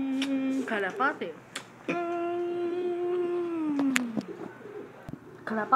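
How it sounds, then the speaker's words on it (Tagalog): A young pigeon calls close by with rising, wavering squeaks and drawn-out cooing notes in a series of calls, with short gaps between them. "Ang anak niyong parang inakay, ang kalapati."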